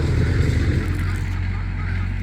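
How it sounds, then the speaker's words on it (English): A tractor engine rumbles low and steady in the background near a quail aviary, a continuous mechanical drone with someone talking over it. "with his tractor, so excuse the noise."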